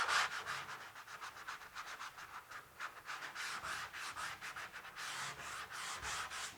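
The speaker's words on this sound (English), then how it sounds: "I'm just going to give it a light sand" Hand sanding a drywall edge coated in joint compound, a steady run of quick, rhythmic scratchy rubbing strokes, close and continuous with no talking.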